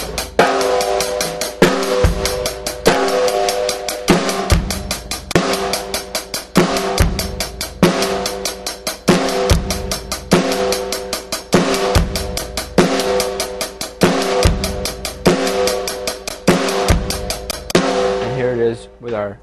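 A drum kit plays a steady repeating groove with a light hi-hat pattern, the bass drum landing on the third triplet partial of the second beat. Crisp, close, loud hits cycle evenly for about nineteen seconds, then ring out.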